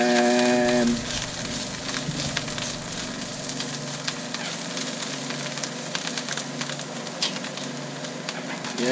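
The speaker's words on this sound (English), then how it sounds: "just saute the mushroom a little bit until it's like it's turning caramelized a little bit" Mushrooms sauté in a pan for a seafood linguine, giving a steady close sizzle with crackling pops throughout. A brief tonal hum at the start cuts off.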